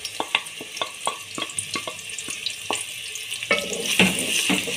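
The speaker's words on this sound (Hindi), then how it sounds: "और अब हमने इधर लदा बर्तन के अंदर आधा कप ऑयल डाल लिया है और अब हम इसके अंदर प्याज डाल दिया है" Sliced onions dropped into half a cup of hot oil in a pot, with an irregular series of sharp crackles and pops over a steady sizzling hiss that grows denser toward the end, close and without talking.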